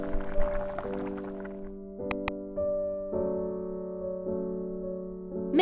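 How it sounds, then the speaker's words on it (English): Single cream pours into a pan and is stirred, with soft liquid drips and gentle stirring beneath sustained tonal background music, plus a couple of brief sharp clicks. "Pour in 200 milliliters single cream and stir until smooth."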